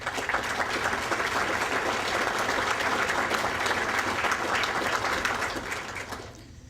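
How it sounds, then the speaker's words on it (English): A room full of guests at a Woodburn Distinguished Service Awards event applauds its table sponsors, a sustained, even wash of clapping that tapers off near the end. "we'd like you to give them a round of"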